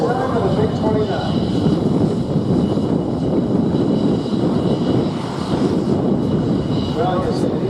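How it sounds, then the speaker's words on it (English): MiG-29 fighter jet flying past at an air show at EAA AirVenture Oshkosh, a steady loud roaring engine rumble that holds throughout, with people talking over it. "I'm not sure I've had the chance to witness a MiG-29 in flight before."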